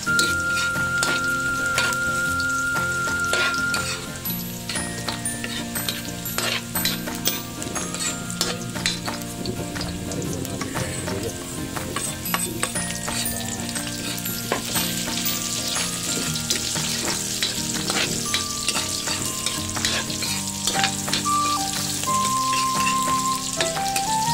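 Garlic fries in a pan with steady, loud sizzling and crackling, stirred now and then with utensil scrapes and clinks throughout.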